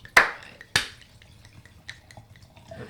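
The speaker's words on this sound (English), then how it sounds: "Give me a clap." Two sharp hand claps for a recording level check, the first loud and close, the second a bit softer half a second later, followed by faint small room noises.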